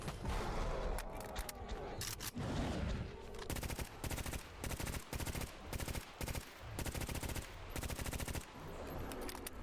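Loud bursts of rapid automatic gunfire in S.T.A.L.K.E.R. GAMMA, fired during a fight with a pseudo giant, come in repeated long volleys with brief pauses between them.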